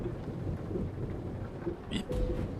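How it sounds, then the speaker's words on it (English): Steady rainfall with low rumbling thunder in Euro Truck Simulator 2, a continuous wash of rain under rolling thunder and a brief brighter burst near the end. "It's raining."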